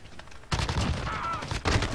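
Loud, close bursts of rapid fire from an AUG submachine gun in Call of Duty: Modern Warfare, starting abruptly after a quiet moment and continuing with a brief pause before another burst.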